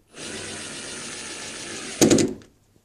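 A power drill whirs steadily for about two seconds during a tenant eviction, then a louder burst of rattling and clunking follows before it stops.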